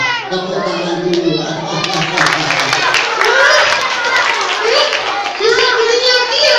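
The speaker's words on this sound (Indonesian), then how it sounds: "Tepuk tangan dulu." Children clap their hands together in a lively burst amid excited chatter and voices at a children's storytelling session, the clapping mixed with kids talking and calling out.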